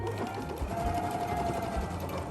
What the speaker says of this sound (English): you can sew over the zipper, but you have to be careful because you can still hit the needle.